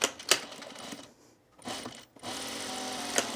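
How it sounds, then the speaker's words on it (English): A sewing machine stitches a seam on a one-piece facing for a sleeveless garment. It runs in close, loud mechanical bursts, stops briefly, then resumes with a steady whirring stitch. "now we're going to sew this at our regular seam allowance"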